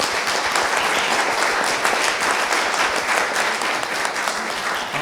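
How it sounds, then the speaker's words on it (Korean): An audience at a forum on a century of children's and youth theatre applauds four presenters, a dense, steady wash of clapping that holds evenly throughout. "네 분의 여기 발표자분들께 박수 한번 부탁드리겠습니다."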